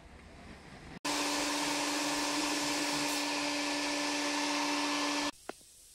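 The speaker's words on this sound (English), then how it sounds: "I'm gonna blow off some more of this sand" Compressed air blowing sand off a BMW M30 intake manifold from a 535i, a steady loud hiss lasting about four seconds with abrupt start and stop, followed by a brief puff.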